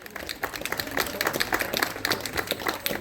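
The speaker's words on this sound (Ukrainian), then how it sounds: "Тому бурхливими оплесками вітаємо наших гостей." Audience applause at a parish centennial celebration, a steady dense patter of many hands clapping throughout, moderately loud with no speech over it.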